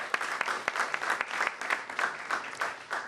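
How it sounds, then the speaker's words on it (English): Audience applause, brisk close clapping from a modest crowd with sharp individual claps standing out, sustained evenly for a few seconds. "A big round of applause for them as well"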